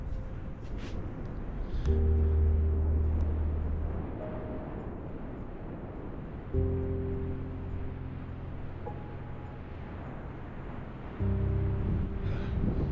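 Wind gusting beside a small mountain tarn in the Ruahine Range: a steady low roar that buffets and swells in waves, with no voices.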